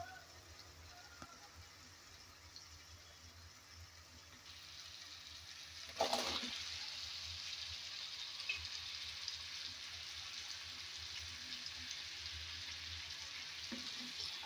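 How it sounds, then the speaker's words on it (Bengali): Taro pieces fry in spiced oil at a low, soft sizzle that swells abruptly into a louder, steady hiss after a sharp clatter, then holds; quiet and fairly close, with no talking. "কচুগুলো দিয়ে ভালোভাবে নেড়ে চেড়ে কষিয়ে নিতে হবে"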